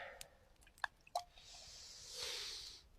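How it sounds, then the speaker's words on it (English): Birch sap dripping slowly outdoors, a few soft separate drops landing wetly over a faint hiss of background air. "Slow drip, Ray, but worth every drop"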